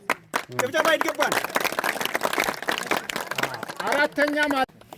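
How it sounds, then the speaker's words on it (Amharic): An audience claps in a burst of scattered applause, mixed with loud voices talking over the clapping throughout. "ጭብጨባ ይገባል።"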